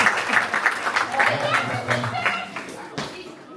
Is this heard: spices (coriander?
no